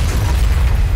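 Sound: corpse explosion in Nuclear Throne video game

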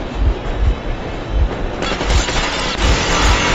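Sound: machine gun firing in Metro Exodus video game

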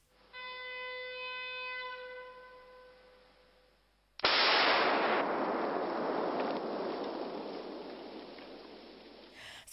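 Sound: explosions used to fight forest fires

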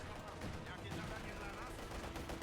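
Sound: anti-tank gunfire in Company of Heroes 2 video game

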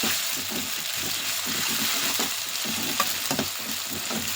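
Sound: ginger paste frying in oil while being stirred

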